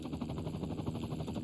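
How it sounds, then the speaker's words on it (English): A helicopter in the city-building game Cities Skylines 2, a low continuous rotor thrum with a fast pulsing beat, moderate and steady with no talk. "How does the helicopter follow me everywhere?"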